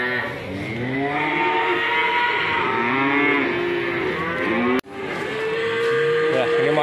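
Cattle at a livestock market, pregnant cows among them, moo repeatedly in long drawn-out calls, several animals overlapping nearby, over a steady crowd murmur with brief talk.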